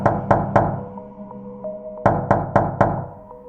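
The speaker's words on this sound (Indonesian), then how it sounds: "tiap jam 2 pagi, pintu kamarku diketuk 3 kali." A room door is knocked on in two sets of three sharp, loud, close raps, with a short pause between the sets and a faint ringing tone underneath.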